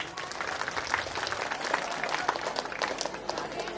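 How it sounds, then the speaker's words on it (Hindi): A school annual day crowd claps on request, a dense, moderately loud patter of many hands sustained throughout, with faint voices mixed in. "ताली बजा सकते हैं?"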